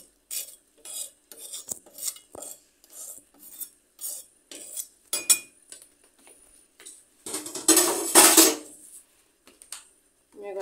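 A utensil scrapes and clinks repeatedly against a pan as hot chocolate is stirred until melted, with rhythmic strokes and a louder rasping burst near the end; a voice talks intermittently nearby.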